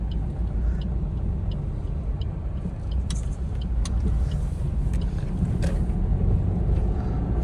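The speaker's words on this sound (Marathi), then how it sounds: "इलेक्शन मुळे जाम आहे आज सगळं" A highway traffic jam on a day of local Zilla Parishad elections in rural Maharashtra, with a steady, loud rumble of idling engines and road noise, wind buffeting the microphone, and a few faint higher-pitched sounds such as horns or squeaks.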